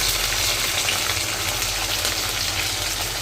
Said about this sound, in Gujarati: થોડા ફાસ્ટ ગેસ પર એને સાંતળી લઈશું।